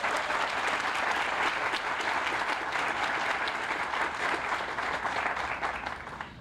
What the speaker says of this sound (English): Would you give our board a round of applause?